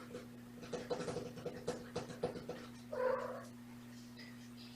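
Kittens settling down at bedtime, with a few short cat calls and a louder meow-like cry over a steady low hum, fairly close and moderately quiet.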